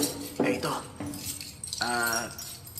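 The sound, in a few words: keys jangling while picking a key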